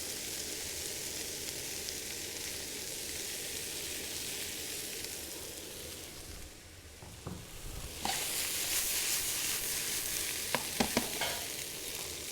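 Beef and spring onions fry in a pan with a steady, close sizzle that dips briefly midway, then returns brighter with a few sharp clicks of stirring near the end.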